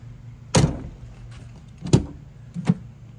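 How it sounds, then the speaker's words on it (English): Cabinet door shutting during a shelf fit check, three sharp knocks at uneven intervals, close and clear against a quiet room with no talking. "the door shuts."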